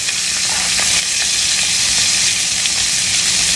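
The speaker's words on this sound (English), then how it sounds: "And you just want to keep basting this while it cooks on the other side." A pork steak sears in a hot pan while melting butter is basted over it, a loud, dense, continuous sizzle and crackle close up with soft spoon scrapes and no talking.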